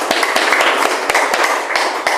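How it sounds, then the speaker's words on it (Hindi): Loud, dense clapping from a yoga class group applauding a student, sharp claps overlapping steadily throughout. "जरा इनके लिए जोरदार ताली बजा देते हैं"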